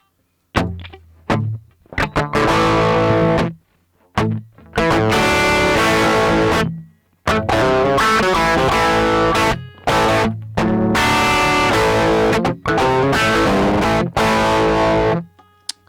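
Electric guitar through a Fender Dual Pugilist Distortion pedal on its distortion A channel, playing loud saturated chords and riffs in bursts separated by short silences, with no talking.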